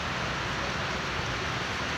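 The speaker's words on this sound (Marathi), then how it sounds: "बाहेर पाऊस पडत होता आणि आम्ही आतमध्ये होतो" Steady, dense hiss of rain falling outside, heard from indoors, even and continuous throughout with no voices.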